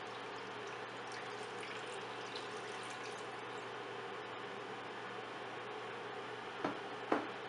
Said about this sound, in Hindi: इसमें हमने दूध डाल देना है 4 कप।